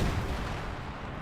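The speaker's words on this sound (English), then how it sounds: "He's getting a little too close to the artillery barrage of the Volksgrenadiers." Booming artillery barrage from the Company of Heroes 2 strategy game, a dense continuous rumble of shell blasts that fills the short burst loudly and without pause.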